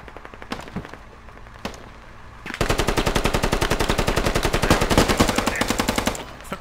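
Gunfire in the military shooter game Squad: a few isolated shots, then a sustained, rapid automatic burst of loud machine-gun fire lasting several seconds before stopping.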